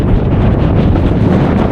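Strong wind batters the microphone on a volcano summit in El Salvador, a loud, continuous roar with gusty swells and no voices.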